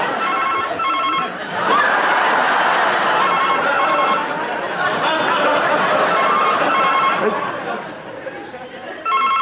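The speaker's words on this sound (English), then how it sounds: "That must be my phone." A mobile phone rings with repeated bright electronic tones, fairly close, over steady chatter and background talk of several people.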